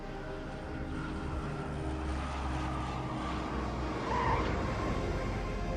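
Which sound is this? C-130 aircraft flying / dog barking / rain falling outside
C-130 aircraft flying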